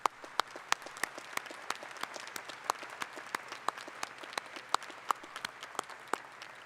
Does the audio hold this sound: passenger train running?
no